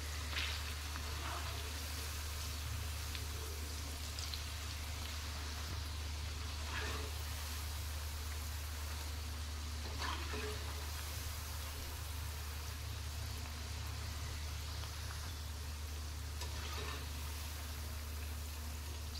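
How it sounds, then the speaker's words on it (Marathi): Cabbage manchurian balls frying in hot oil over a high gas flame, a constant dense sizzle and crackle holding steady throughout, with no talking over it. "आणि त्याच्यावर आपण 2 ते 3 मिनिटं तळून घेणार आहोत, म्हणजे ते आतून पण चांगले तळले जातील"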